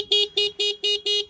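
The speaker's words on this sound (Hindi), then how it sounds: "बाकी इसका हॉर्न जो है" A TVS Raider 125 motorcycle horn beeps five times in quick, evenly spaced blasts, each a short bright tone, loud and close with nothing else heard.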